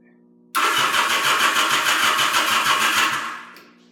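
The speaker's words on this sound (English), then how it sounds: "Alright, let's fire it up and see what we got." A 1977 Yamaha XS750 motorcycle, fresh plugs and resistors fitted, starting for the first time in 30 years: the engine catches abruptly and runs at a loud, steady, close idle with a pulsing beat for about three seconds, then dies away.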